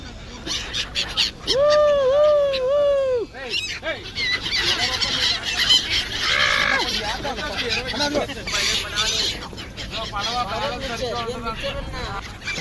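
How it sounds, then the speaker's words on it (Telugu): A flock of birds calls around a boat at Prayagraj, with a burst of loud, close, honking and squealing cries near the start. Scattered calls follow beneath people talking and general boat-side bustle. "ఇదిగోండి పక్షులు బాగున్నాయి"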